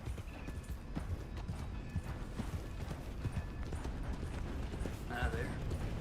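Horse hooves clip-clop steadily on a dirt path in an open-world western game, a soft continuous patter with faint creaks, a brief whinny and a quiet voice talking.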